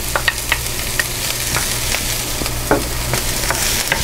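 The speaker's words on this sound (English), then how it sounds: "We're going to add in 1/2 cup of chopped onions. We're going to stir fry that." Chopped onions and green onions stir-fry in hot oil with a steady loud sizzle, close by. Scraping stirs and tosses sound at irregular intervals over a low background hum, with no talk.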